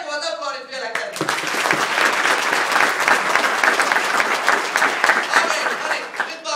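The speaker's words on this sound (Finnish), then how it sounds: "Raikuvat aplodit vielä kerran." An audience applauds at a topping-out ceremony for the company Skanska. A voice is heard briefly, then a loud, dense wave of clapping swells in and holds steady for several seconds.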